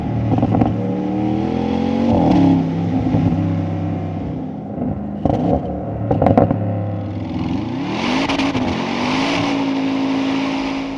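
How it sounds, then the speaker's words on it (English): A 2025 Audi RS7 Performance engine revs and burbles, loud and close, its note rising and falling through shifts, with crackling pops as the throttle lifts off. "It even gives you those proper burbles up and down shift or release of the throttle."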